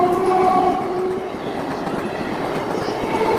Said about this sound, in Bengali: এই যে ট্রেনটা চলে এসে এবার বেরিয়েও গেল।